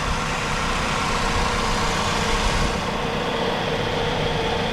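A 2009 Chevrolet Cobalt engine idles steadily while warming up after an oil pan repair, a constant close rumble with a faint hiss and no variation or voices.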